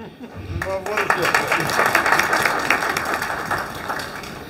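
A crowd claps in sustained applause at a fundraising dinner in Oslo, the dense patter swelling quickly after a brief pause and holding steady for several seconds.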